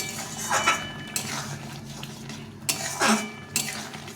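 A spoon stirring tamarind tomato pickle in a pan, with irregular scraping and clinking strokes against the metal at close range and quiet gaps between them.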